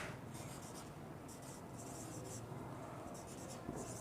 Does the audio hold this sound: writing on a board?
yes